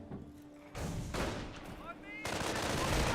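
Machine gun fire from a base MG in Company of Heroes, a World War II strategy game, crackles in quick bursts against a battle backdrop, growing denser toward the end while a commentator talks over it.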